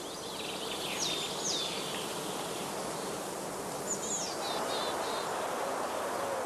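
Honeybees fly around straw skeps at a heathland apiary, a soft continuous hum under steady outdoor hiss, with a few faint birdcalls chirping now and then in the distance.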